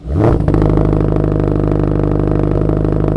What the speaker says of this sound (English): this is the first video that we get to hear the Demon's exhaust note